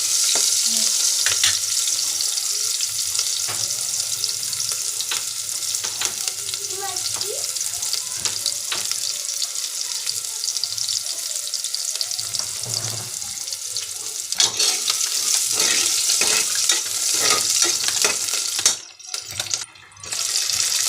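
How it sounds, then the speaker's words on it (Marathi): Onion fries in a pan until browned for masala rice, a loud continuous sizzle and crackle with occasional stirring, briefly cutting out near the end; no speech. "कांदा टाकलेला आहे आता त्याला लाल होईपर्यंत परतून"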